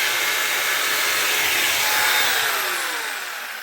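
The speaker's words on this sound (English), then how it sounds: "our Sawzall is trying to cut into the jigsaw here" Sawzall reciprocating saw powered by a VEVOR 12-volt 3600W inverter at a job site, a loud, continuous whirring motor roar that holds steady and then tapers slightly.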